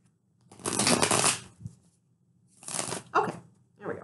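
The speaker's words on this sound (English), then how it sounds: "one more shuffle and we are good" Tarot cards are shuffled by hand in two bursts of dense riffling and flapping, close and crisp, with short quieter pauses and a final shorter shuffle.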